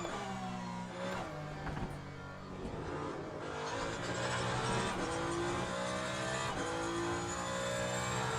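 The Ferrari 499P hypercar engine roars steadily through a racing lap in Le Mans Ultimate, a loud sustained drone whose pitch rises and falls through the gear changes, with no talk.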